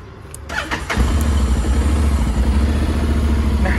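A motorcycle engine cranks and fires up after a second of quiet clicks, then settles into a loud, steady, rumbling idle close by.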